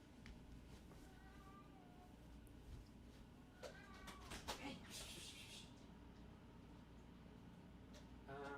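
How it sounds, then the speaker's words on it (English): A pet cat meows loudly and insistently in a room, several cries spread across the stretch, with household bumps and faint background hum. "oh, the cat's going nuts"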